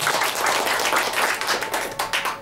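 An audience claps steadily at a seminar, a dense, even patter of applause at moderate volume with no voices.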